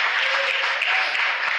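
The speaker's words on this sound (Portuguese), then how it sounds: "Você pode dar uma salva de palmas para Jesus" A church congregation claps together for a short burst, a dense, even wash of many hands filling the room at a loud level.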